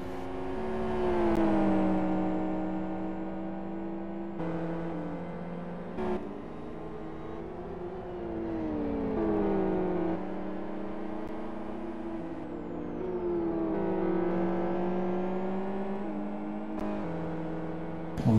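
SuperGT racing cars in a sim race at Fern Bay, high-pitched engines rising and falling as several cars pass one after another, with abrupt gear shifts and shifting pitch as each approaches and recedes.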